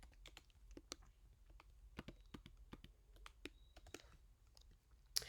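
Keys clack on a computer keyboard in a quick, uneven burst of close clicks at low volume, with brief pauses between runs of typing.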